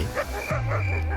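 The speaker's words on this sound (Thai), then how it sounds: "ด้วยเสียงหอนของสุนัขจิ้งจอก" A jackal's howl as a narrated documentary sound effect, a few short yelping calls followed by a drawn-out low wail, fairly loud over a steady background hum.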